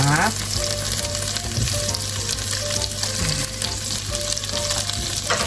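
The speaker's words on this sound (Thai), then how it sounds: "ผัดหอมหัวใหญ่ให้สุกในระดับหนึ่งนะคะ" Onions stir-frying in a pan, a steady dense sizzle running throughout with a few scraping stir sounds, close and loud with no talking.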